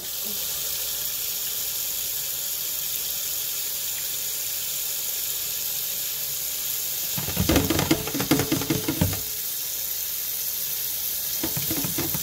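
A steady faint hiss continues throughout. Partway through, water splashes briefly into a pot of chicken and rice, and there is another short splash near the end.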